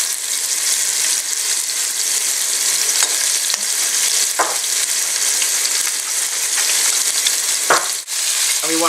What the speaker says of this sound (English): And we want to saute this until the ground beef is browned up